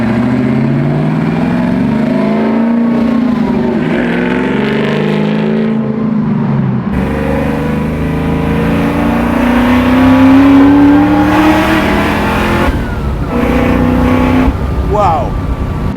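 A 750hp supercharged LS9 Camaro convertible revs and accelerates, its exhaust note rising and falling with a steady supercharger whine, heard close and loud with people talking over it throughout.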